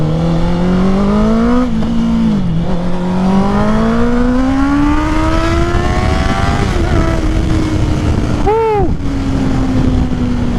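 Honda CBR 650R motorcycle with a full exhaust system, revving loudly and up close, the pitch climbing steadily through long pulls, with a sharp dip and a quick burst of pops near the end.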